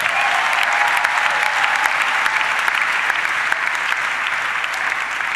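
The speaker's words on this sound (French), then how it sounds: "Acclame le Seigneur très très fort" A church congregation breaks into loud, sustained applause for the Lord, a dense steady roar of many hands clapping throughout, close and enveloping with no talk above it.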